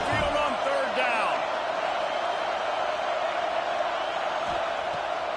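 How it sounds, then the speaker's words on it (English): A stadium crowd roars at Alabama's home field on third down in a college football video game, a loud, continuous wash of noise with a voice speaking briefly at the start. "The Tide crowd rolling noise down on the Saban field on 3rd down."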